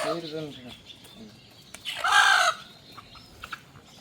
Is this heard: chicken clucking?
yes